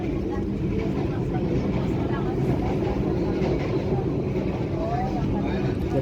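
The KA Fajar Utama Yogyakarta economy premium passenger train runs on the Cirebon–Jatinegara line, a steady low rumble and clatter of wheels on rails heard from inside the carriage, with faint squeals and a voice speaking over it.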